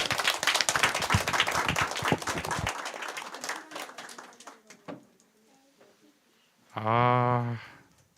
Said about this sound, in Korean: 우리 축하의 박수 드리죠